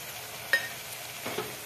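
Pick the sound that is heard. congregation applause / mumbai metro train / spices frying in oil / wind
spices frying in oil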